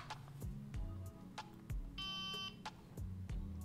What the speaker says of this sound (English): Why does this have the Motorola turn-on sound?